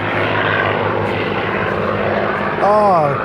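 Two P-51 Mustang aircraft fly by, a loud, rough droning engine roar that swells near the end with a shifting, Doppler-like whine.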